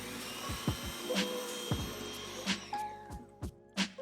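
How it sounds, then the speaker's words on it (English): An electric hand mixer beats butter with light and dark muscovado sugar in short, whirring bursts, close by, its motor pitch rising and falling with each pass through the mixture. "like to use the mixer to soften it up so that it's easier to mix"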